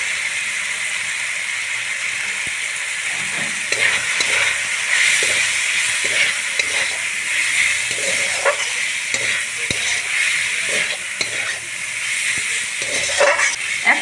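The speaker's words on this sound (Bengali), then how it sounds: "এই সব উপকরণের সাথে আমি কষিয়ে নিই" Ginger, cumin and green chilli paste with turmeric sizzle and fry steadily in a pan for vegetable dal, a continuous loud hiss broken by occasional stirring scrapes.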